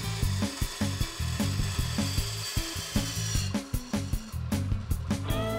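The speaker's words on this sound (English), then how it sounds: "Just for the sake of variety, I'm gonna use the bandsaw." A bandsaw cuts cedar boards for an Adirondack chair and patio set, a steady motor hum broken by a regular rhythm of short rasping bursts as the blade bites the wood, close and moderately loud.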